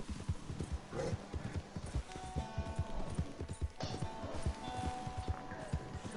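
A horse in the video game Red Dead Online walks with a steady, close clip-clop of hooves, its hoofbeats falling in an even rhythm throughout.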